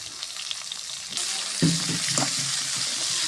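Potatoes and onion drop into hot oil in a frying pan for a bitter gourd fry. The steady sizzle swells into a loud crackling rush as they hit, then settles into a close, even frying hiss.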